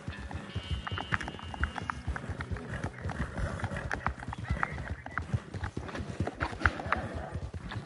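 Steady clip-clop of video game horse hooves at a trot, continuous and moderately close, with a faint background hum.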